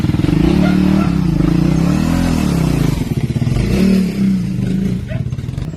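Several motorcycles rev and idle together on a group charity ride, a loud steady engine drone with rising and falling throttle swells throughout.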